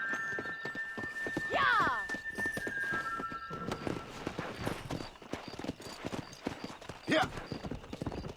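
Galloping horse hooves clip-clop steadily in Red Dead Redemption, with a horse whinnying near the start and again later, while someone shouts briefly over the riding.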